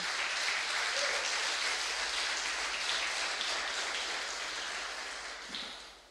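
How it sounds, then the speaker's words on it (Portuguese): Dense, sustained applause from a large church congregation fills the whole stretch, fading slightly near the end. "Pode aplaudir ao Senhor Jesus"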